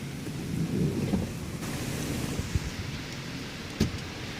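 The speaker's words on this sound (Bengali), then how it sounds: "যে বৃষ্টি" Steady rain hiss with low rumbling, as heard from inside a vehicle on a road trip, with a couple of sharp knocks or thuds standing out briefly.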